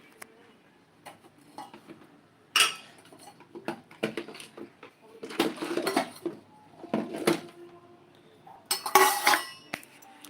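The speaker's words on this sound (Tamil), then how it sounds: "இப்போது ஒரு பாத்திரத்தில் வடிகட்டிக்கிறேன்." Boiled tea being strained into a metal vessel gives sharp metallic clinks and clatters in irregular bursts, close and alone with no talk.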